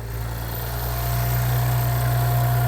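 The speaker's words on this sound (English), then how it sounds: "let's just go ahead and start it up" An Audi engine, 2018 or later, idles steadily up close after a slow crank on a weak battery, a low continuous rumble with a constant hum from the secondary air system that grows slightly louder as it settles.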